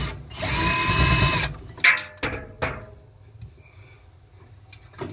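A power drill removing a Phillips head screw from a dryer's light cover whines loudly and steadily for over a second, then stops, followed by a few sharp clicks and clunks of handling.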